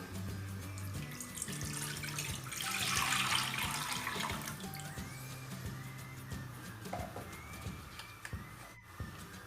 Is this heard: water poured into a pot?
yes